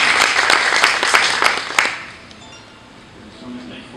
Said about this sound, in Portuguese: Então, uma salva de palmas